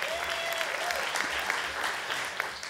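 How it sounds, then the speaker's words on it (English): Symposium audience applauding in a brief, lively burst of many hands, with a few voices and cheers mixed in. "Yeah, we should clap for that."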